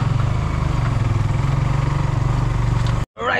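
A motorcycle engine runs steadily and loud up close on a bumpy road, a continuous low drone that cuts off abruptly near the end, followed by a brief burst of other noise.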